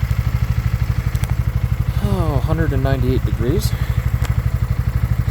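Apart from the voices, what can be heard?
scooter engine idling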